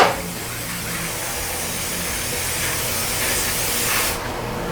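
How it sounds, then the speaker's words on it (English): Cooking spray hisses from an aerosol can into a pan, one continuous loud close spray lasting a few seconds before cutting off, with no talking. "Put some cooking spray."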